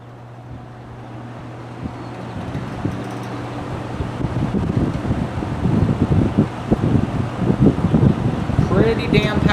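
Lakewood X-22 box fan on a Lakewood Slim-Line Roll-About stand starting up and running on high speed, a steady near whooshing hum that builds, with the stand rattling and clattering irregularly; a voice speaks briefly.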